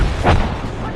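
A frag grenade blast in Apex Legends, one loud, close boom with a rumbling tail that fades over about a second.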